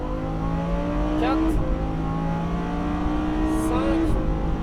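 Lamborghini Huracan on a motorsport academy track under full throttle, engine note climbing through rapid upshifts with brief dips between gears, heard from inside the car while an instructor calls out numbers.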